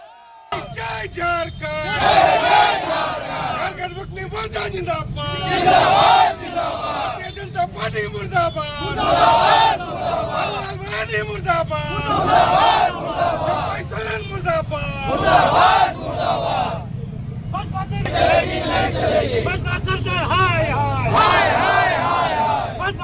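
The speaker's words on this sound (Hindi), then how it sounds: "इस दौरान जेएमएम ने भाजपा के विरोध में नारे लगाए।" A JMM protest crowd at Bhognadih chants slogans against the BJP in loud, rhythmic call-and-response shouts, many voices together, repeating in bursts over a constant crowd murmur.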